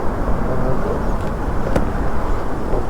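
Land Rover engine running steadily close by while the vehicle is stuck off-road and failing to engage four-wheel drive, a constant low rumble with a brief higher whine partway through and no talk.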